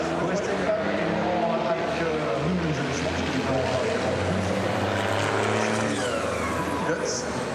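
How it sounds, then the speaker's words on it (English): Racing truck engines roar continuously at the 2021 FIA European Truck Racing Championship at Le Mans, a loud, steady, dense rumble filling the whole stretch, with a voice talking over the din. "You can hear the roar of truck engines all over Le Mans"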